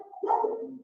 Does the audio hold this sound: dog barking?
yes